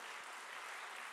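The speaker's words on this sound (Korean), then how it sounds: "하나님께 영광의 박수 올리겠습니다" Congregation clapping during a Sunday church service, a soft continuous wash of many hands heard from a distance, even and unbroken for a brief moment.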